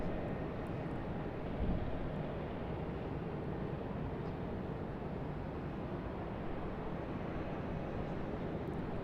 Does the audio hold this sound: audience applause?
no